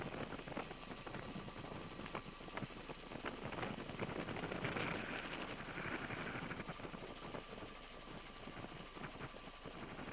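A sheriff's helicopter in flight during a police pursuit gives a steady, dense rotor and turbine roar with rapid blade chop, loud and continuous throughout with no speech.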